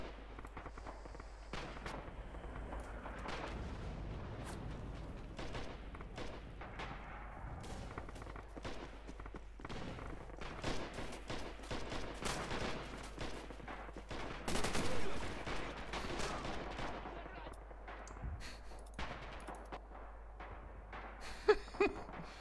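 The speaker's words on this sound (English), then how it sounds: "Somebody kill that freaking machine gun." Battlefield gunfire from Red Orchestra 2, with rapid crackling bursts and scattered shots running continuously at moderate loudness, a machine gun among rifles and distant blasts, no voices over it.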